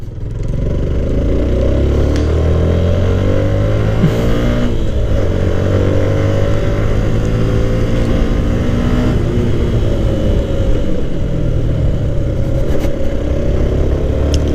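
A motorcycle rides steadily and slows to make a U-turn, its mid-pitched engine droning loudly and continuously with shifting revs and some clatter, no talk.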